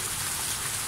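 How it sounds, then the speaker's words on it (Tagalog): Steady rain falls in the late afternoon in Barangay Dalig, Kalinog, Iloilo, Philippines, a dense continuous hiss of drops on surfaces with no gaps, close and fairly even in loudness. "pero maulan talaga"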